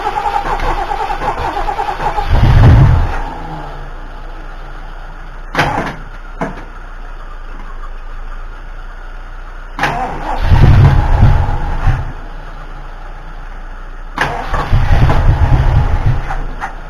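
Ford 351M/400 V8 engine being cranked in repeated attempts, each burst of starter grinding and rough firing lasting a second or so, separated by quiet pauses and a few sharp clunks.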